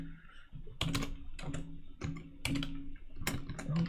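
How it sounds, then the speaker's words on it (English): Fingers typing on a computer keyboard during a live coding session, a close run of crisp key clicks in uneven bursts, with no talking. "I'm typing in the amount."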